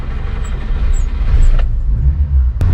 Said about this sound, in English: Hear that noise? Kind of a rattle. So I think this engine's pretty worn out.